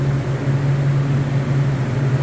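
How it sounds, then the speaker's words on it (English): A walk-in cooler's refrigeration unit runs low on refrigerant charge inside a cooler sitting at 45 degrees, giving a constant close hum with a strong low drone and a broad hiss, steady and unbroken. "That's the sound of a low refrigerant charge."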